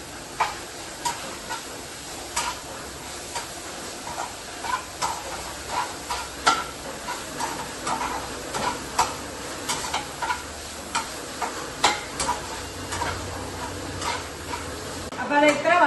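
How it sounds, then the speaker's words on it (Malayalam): Corn heats in a pan with a pinch of pepper powder, a soft continuous sizzle broken by scattered crisp ticks and pops that grow more frequent and louder toward the end. "ഇതിനകത്ത് കോണ് ചെറുതായിട്ട് ചൂടാക്കാൻ വേണ്ടി ഇട്ടിട്ടുണ്ട്"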